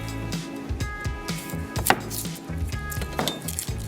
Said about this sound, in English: we're going to start by cutting our onion